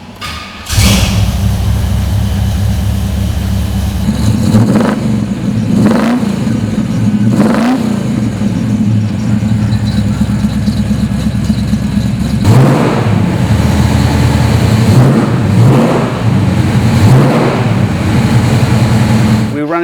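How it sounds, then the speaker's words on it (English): A 1968 Pontiac Firebird pro-touring convertible's V8 catches and settles into a loud, steady idle, with several sharp revs rising and falling, then a second cluster of blips later on, close to the microphone. "How about I start it for you so you can hear what it sounds like"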